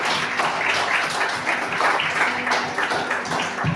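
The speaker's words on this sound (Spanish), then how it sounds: "Démosle un aplauso a Dios" Church congregation clapping together during a Spanish-language worship service, a dense, even wash of applause that carries on without pause, with no clear voices over it.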